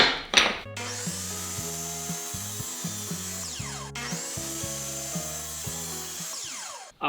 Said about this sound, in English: Let's cut them on the miter.